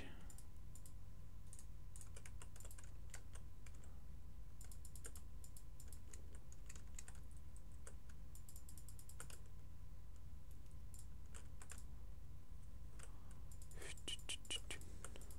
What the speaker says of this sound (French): je suis en train de merder sur le clavier et la souris